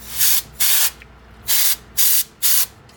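Compressed air duster spraying dust out of RAM connectors in five quick, close hissing bursts, the first two paired, then a gap before three more in a steady rhythm.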